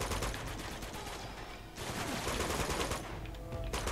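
Rapid gunfire in the action video game Uncharted 2: Among Thieves, a loud, continuous volley of shots that dips briefly and then keeps going in dense bursts.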